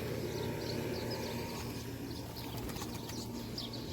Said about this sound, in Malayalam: ഇതാണ് ഇവിടുത്തെ പ്രാവുകൾ